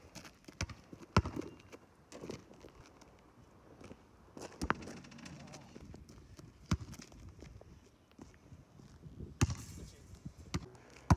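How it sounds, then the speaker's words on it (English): A basketball bounces on an outdoor court during a casual hoops session in the UK, giving irregular sharp thuds at varying distances with quiet background chatter. "Here we go, shooting some hoops."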